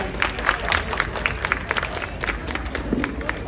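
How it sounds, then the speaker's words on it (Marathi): Audience at a Ganpati festival program for a housing-society group claps in a lively burst of applause, steady and dense throughout with scattered crowd noise and faint voices mixed in. "टाळ्या वाजवू द्या जोरदार."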